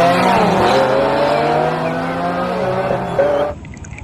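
Toy race car sound effect, a loud continuous revving engine with rising and falling pitch and squealing tones, running steadily for about three seconds before cutting off abruptly.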